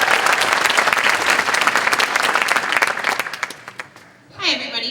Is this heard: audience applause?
yes